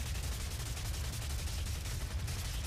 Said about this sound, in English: Speaking of which, I should use the chain gun.